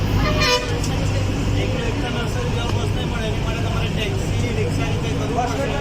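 Onboard a bus heading toward the Statue of Unity in Ekta Nagar, Gujarat, a steady engine rumble and road noise fill the cabin, with a horn tooting briefly near the start and voices murmuring faintly underneath.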